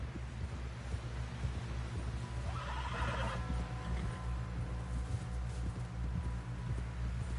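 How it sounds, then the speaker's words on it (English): A horse whinnies loudly for a moment in Red Dead Redemption 2, over constant low rumbling noise, with faint hoof clatter around it. "Someone help John down off this horse."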